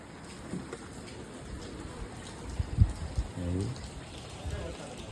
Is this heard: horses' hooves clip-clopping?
no